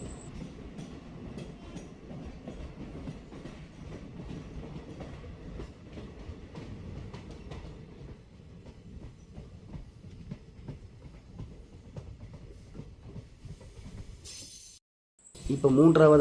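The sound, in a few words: train travelling through a tunnel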